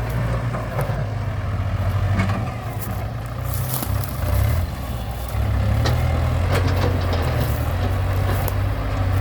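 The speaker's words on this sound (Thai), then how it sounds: "เรารอรถไถทำทางก่อนครับ" A tractor engine works to clear a flooded, waterlogged road so stuck six-wheel trucks can pass, its heavy diesel drone loud and continuous throughout, with engine load surging and easing in places.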